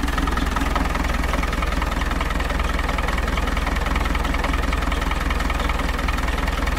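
A work machine's engine idles steadily and loudly at close range, a continuous low rumble with a constant vibrating drone and no change in pace throughout.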